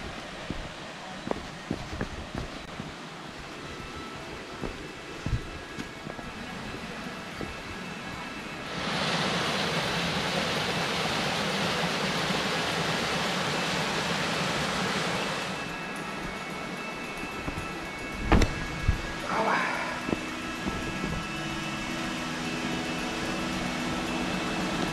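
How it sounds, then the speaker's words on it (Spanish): A small river waterfall near the medieval village of Rupit i Pruit in Catalonia, heard as steady rushing water that swells to a loud, broad roar for several seconds mid-clip, with scattered faint knocks before and after. "podemos luego disfrutar de una pequeña cascada del río que pasa a lo largo de todo el camino"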